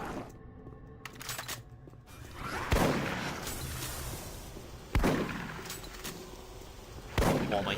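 Gunfire in Doom 3, loud booming shots fired one at a time at intervals of about two seconds, each followed by a rolling echo and a dense, noisy game background.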